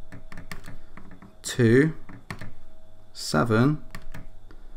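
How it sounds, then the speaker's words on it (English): Number keys on a Casio fx-991EX ClassWiz calculator are tapped in a quick series of sharp, close clicks, with a voice talking between and over the presses. "we're going to type in this number"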